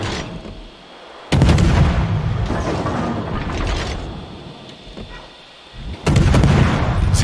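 Warship naval guns fire in World of Warships, heavy booming salvos that break over a low rumbling mechanical drone, with loud blasts near the start and again near the end, and no one talking.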